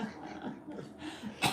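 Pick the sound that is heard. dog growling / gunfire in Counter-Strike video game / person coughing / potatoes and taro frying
dog growling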